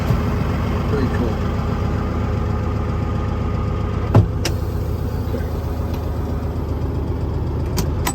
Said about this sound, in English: I'll put it up on fast idle.